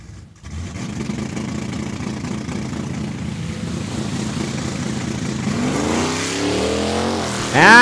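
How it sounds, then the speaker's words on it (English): Drag race cars, including a Mustang, launch from the start line at a raceway, with a loud, sustained engine roar that builds and rises sharply in pitch near the end. "And it is a clean start at the line."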